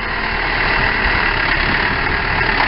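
A loud New Holland 7610S tractor engine running steadily at a constant rumble while planting, close by and unbroken throughout.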